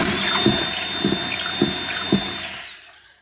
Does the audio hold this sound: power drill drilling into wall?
yes